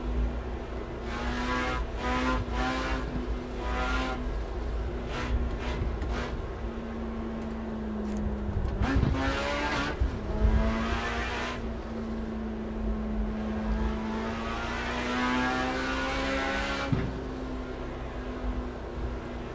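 Engine of a Mercedes-Benz sedan driven at speed on two-lane Japanese roads in the Assetto Corsa racing game, a steady near drone with rising and falling revs and a few gear-shift dips, no talk.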